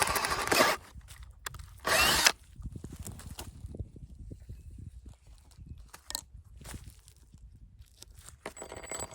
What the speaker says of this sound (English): I literally am just going to drill a pilot hole into the fence post